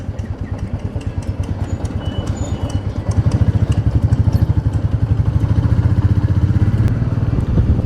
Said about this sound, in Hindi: ये बाइक मैं आज मैं पहली बार यूज़ कर रहा हूँ।